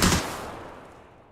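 A single loud gunshot from a VSS suppressed sniper rifle in the battle royale game PUBG, a sharp crack at the start that trails off into a fading echo, with no other sound.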